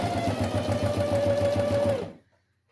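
Sewing machine stitching fabric for a boxy necessaire pouch, a steady fast mechanical whir with rapid needle rhythm running about two seconds before stopping abruptly, close and fairly loud.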